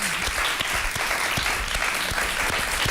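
A studio audience on a Eurovision talk show applauds a singer's arrival, a thick, steady roar of clapping from many hands with scattered sharper claps standing out, no voices over it.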